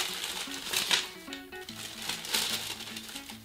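A plastic bag crinkles and rustles as someone rummages through it while unpacking a box of geek merchandise, close and fairly soft, with faint tonal sounds in the background.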